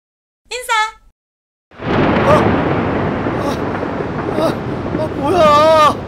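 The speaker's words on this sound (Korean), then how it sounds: "오늘따라 천둥번개 왜 이렇게 무섭게 치는 거야" A thunder and lightning storm in a Korean family sitcom rolls in as a long, loud, deep rumble after a short vocal cry, and a voice rises again over the roar near the end.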